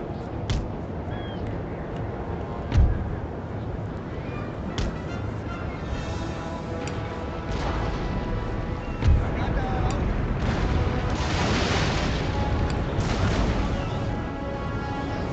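Cannon fire from ships in a Napoleon: Total War naval battle: a few deep booms ring out amid a continuous rumbling roar of distant broadsides, loud and sustained throughout.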